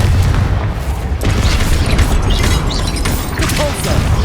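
In Hogwarts Legacy, a Confringo fire spell erupts as a loud, sustained booming roar of explosion, dense and rumbling throughout with no pause.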